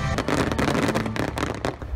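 Fireworks over Goodwood House at the Goodwood Festival of Speed, a rapid run of crackling pops and bangs, fairly loud and dense, with a low hum of crowd or music beneath.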